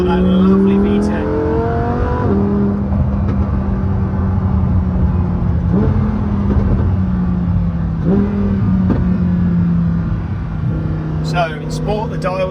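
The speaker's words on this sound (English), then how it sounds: "the noise has just got that lovely V10" A 2020 Lamborghini Huracan EVO RWD's V10 engine revs loud and close, its tone climbing and dropping in several surges over a steady, throaty drone.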